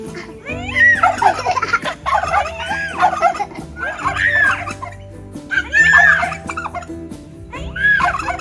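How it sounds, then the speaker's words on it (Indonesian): Green peafowl at a Sundanese cultural village campsite give a series of loud, harsh calls about once a second, close by and clear, with a faint steady hum underneath. "Jadi itu burung apa? Merak hijau."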